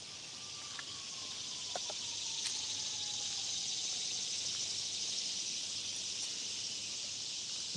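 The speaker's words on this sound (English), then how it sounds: "Cicadas are kicking up today." Cicadas buzz in a steady high-pitched drone along a wooded nature trail after a storm, faint and continuous, with a few soft chirps and rustles underneath and no talking.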